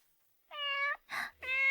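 A cat meows three times in quick succession, clear and close, the middle call shorter and breathier, with silence before the first.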